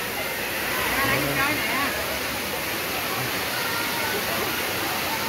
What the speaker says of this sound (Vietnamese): Ở đây thì nghe được cái âm thanh của tiếng nước chảy ha